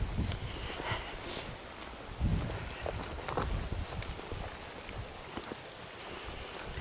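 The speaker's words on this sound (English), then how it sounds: "And the wind has, for now, calmed down a bit." Wind gusts and rumbles across the microphone on a Scottish loch shore, a steady broadband rush with low buffeting, loud and close, with no speech.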